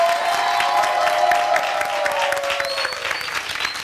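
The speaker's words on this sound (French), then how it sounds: "Applaudissez encore plus fort pour lui." An audience applauds a young future artist on a stage show, with dense clapping and some cheering that carry steadily for about four seconds, while a sustained tone runs under it and then fades.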